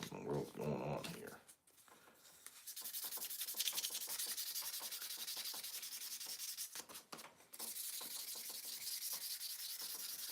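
Continuous rough scraping of sandpaper rubbed back and forth by hand on a tobacco pipe, close and steady, with a brief pause partway through.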